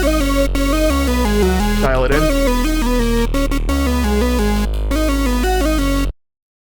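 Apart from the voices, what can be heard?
synth lead with second oscillator an octave up, stereo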